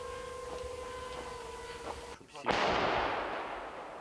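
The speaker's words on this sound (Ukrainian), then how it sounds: "гармаші намагаються стріляти поміж прольотами ворожих дронів" An artillery gun fires once near Pokrovsk with a deep, loud boom that rolls away slowly, following a steady electronic tone and quiet background.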